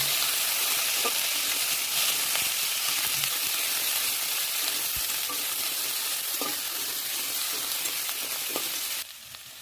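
Garlic, onion and ginger sizzle steadily in hot oil for a vegetable curry, a loud continuous frying hiss with occasional stirring clicks, alone without talk until it drops off near the end.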